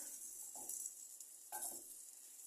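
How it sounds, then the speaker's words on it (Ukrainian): Quiet, steady sizzling of onion frying in oil in a small pan, with two soft scraping stirs breaking through the hiss. "я тут обжарюю цибульку на маленькій сковорідці"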